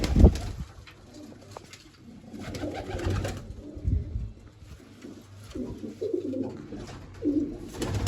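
Pigeons coo in soft, low, repeated throaty bursts close by, rising and falling in a loose rhythm over a quiet outdoor background, with no one speaking.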